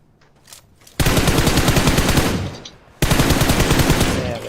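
Automatic weapon fire in the mobile shooter PUBG Mobile, heard as two long, loud, rapid bursts separated by a short pause, with no talking.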